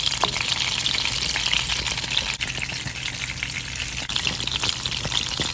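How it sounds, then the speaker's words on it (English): Fish frying in a pan gives a loud, continuous dense sizzle with fine crackling throughout, heard alone and up close. "Now we're going to fry the rest."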